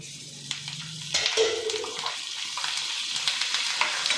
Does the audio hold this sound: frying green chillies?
yes